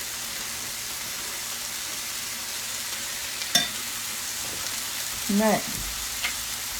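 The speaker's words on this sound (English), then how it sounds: "let's just stir this up a little bit" Ground beef fries in a pan with a steady, close crackling sizzle while a utensil stirs through it, giving brief scraping bumps near the end, and a voice speaks briefly over it.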